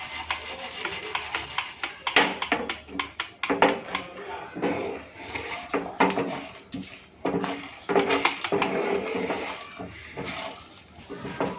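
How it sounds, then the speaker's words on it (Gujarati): Green chillies, garlic cloves and dried chillies go into a pan for a spicy Maharashtrian thecha, with repeated metallic clinks and scrapes of a spoon on the pan mixed with soft kitchen clatter, close and moderately loud. "હવે આપણે આમાં 2 લીલા મરચાં, 2 લસણની કળી અને 4 આપણે સૂકા મરચાં એડ કરીશું."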